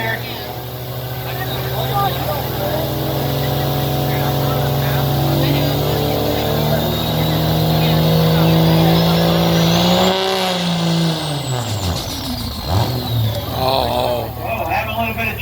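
Pulling truck engine roaring loud and steady at a county fair truck pull, rising in a long rev before dipping and surging again, with an announcer talking over it throughout.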